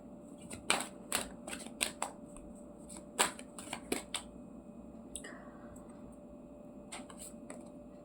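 An oracle card deck is shuffled close up: a burst of quick, crisp riffling clicks and slaps, then a pause and a few more sharp shuffles, with no talk over them.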